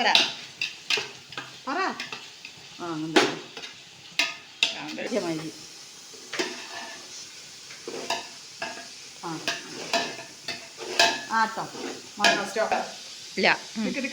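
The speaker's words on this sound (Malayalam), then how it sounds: "അപ്പോൾ അതാ തക്കാളി ഉള്ളി നന്നായി വഴങ്ങട്ടെ" Tomato and onion sautéing for chicken biryani, a sizzling pan with repeated loud scraping and stirring strokes and clinks of a utensil, with voices talking intermittently.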